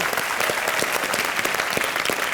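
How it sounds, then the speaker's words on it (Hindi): Studio audience at a Hindi TV comedy show breaking into loud, dense applause, a continuous crackle of many hands clapping close and sustained for the whole moment. "एक बार जोरदार तालियां इनके लिए।"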